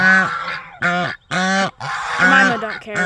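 Domestic geese or ducks honking loudly close by, several rough nasal calls in quick succession with brief pauses between them.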